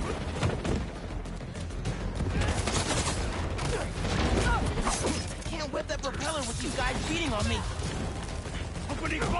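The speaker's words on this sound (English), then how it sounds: "Opening fire!" Gunfire in the PS5 game Spider-Man 2: dense, continuous crackling bursts of shots and mechanical clatter fill the scene, with voices and chirpy game effects mixed underneath.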